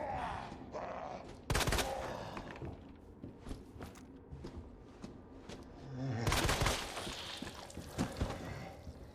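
Handgun fire in Resident Evil 2, several sharp loud shots in bursts separated by quieter stretches, with no talking.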